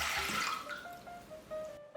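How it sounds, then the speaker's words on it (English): Water pours into a saucepan in a kitchen, a soft, steady trickle with rising splashy tones as the pan fills, heard alone and fairly quiet. "add some water"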